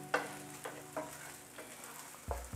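Bacon and green onions being stirred into egg fried rice in a pan, with a few soft scraping strokes over a faint, steady sizzle and a louder clatter near the end.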